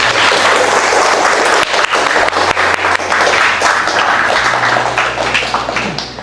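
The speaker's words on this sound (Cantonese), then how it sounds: "大家俾啲掌聲嚟聽" A school audience at a Hong Kong slam-dunk sharing session applauds loudly and steadily. The dense clapping holds for several seconds, then eases slightly toward the end.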